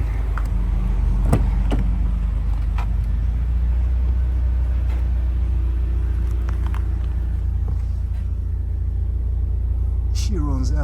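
A 2019 Subaru WRX Limited AWD with a 2.0L engine idles with a steady low rumble, heard from nearby alongside a few clicks and someone talking over it.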